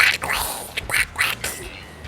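A person mimics Donald Duck's quacking voice, producing a few short, raspy, nasal squawks in quick uneven succession, close and fairly loud.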